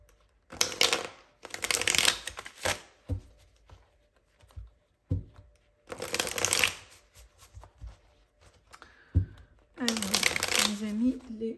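A deck of tarot cards is shuffled in several quick riffling bursts, close and crisp, with quiet pauses, small taps and handling noises between the bursts.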